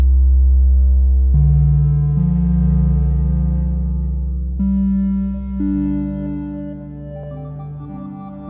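Sustained synth tones from a sampled Make Noise Strega, played polyphonically in Ableton, layer into shifting chords, several notes held at once and changing every second or so, loud and smooth with no talking.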